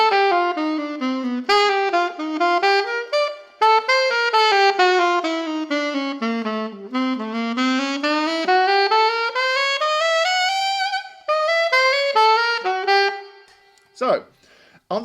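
An alto saxophone plays a slow bebop solo with long flowing legato lines rising and falling, loud and close, alone with no talk, ending abruptly near the finish.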